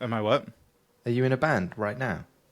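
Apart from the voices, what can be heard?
None of the usual background noises is heard.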